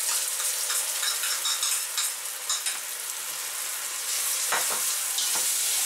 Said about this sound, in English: And the sauce put in and then stir until it gets thick